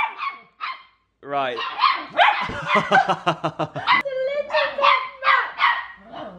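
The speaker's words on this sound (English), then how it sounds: "We've never actually heard him bark like that, to be fair." A dog barks several times up close, loud, high-pitched yapping and a whimpering whine in irregular bursts, with people talking over and between the barks.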